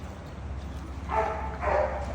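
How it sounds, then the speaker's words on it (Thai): Dogs bark twice in quick succession, moderately close, over a low steady background hum. "จะเลิกเห่ากันกี่โมง"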